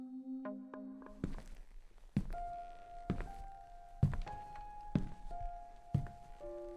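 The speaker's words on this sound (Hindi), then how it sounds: "उसे फिर वही कदमों की आवाज सुनाई देती है, इस बार पहले से ज्यादा पास" Footsteps in a horror story sound effect, slow heavy thudding steps spaced about a second apart, getting gradually louder, over a quiet eerie backdrop of faint sustained tones.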